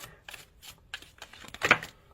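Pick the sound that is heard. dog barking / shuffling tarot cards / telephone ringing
shuffling tarot cards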